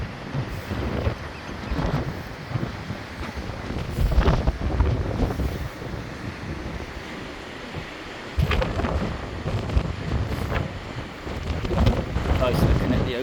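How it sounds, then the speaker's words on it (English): Strong wind buffets the microphone on the rocky coast of Lundy Island near the North Lighthouse, with gusty rumbling roars and surging blasts, mixed with distant surf, loud and unsteady throughout. "Quite windy as well."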